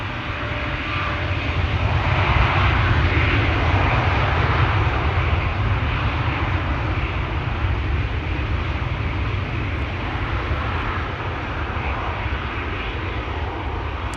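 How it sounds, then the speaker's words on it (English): A KLM airliner bound for Lima is pushed back and moves toward runway 18 Left at Schiphol, its engines producing a loud, continuous rumble and hiss with no voices over it. "KLM flight 743 to Lima in Peru, being pushed back, coming to 18 left."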